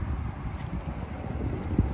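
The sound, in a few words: strong wind on the water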